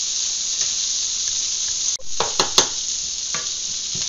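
Farmer sausage sizzles and crackles steadily in a buttered pan during a stir-fry, with a few sharp clinks and scrapes of stirring near the middle, close up and with no talking.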